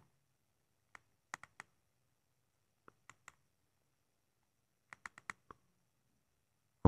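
Keys click on a Jio phone keypad in short separate clusters of two to five quick taps, close and crisp, with silence between the groups and no voice.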